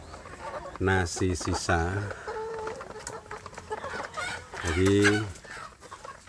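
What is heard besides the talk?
village chicken chicks clucking while being fed leftover rice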